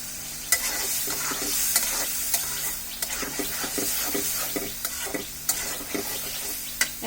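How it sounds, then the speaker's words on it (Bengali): Cut potatoes being fried and stirred in a pan for chickpea curry, a soft continuous sizzle with repeated scraping spoon strokes and occasional sharp clinks, close up, no talking. "এখন এর মধ্যে যে কেটে রাখা আলুগুলো আছে সেটা দিয়ে দিব"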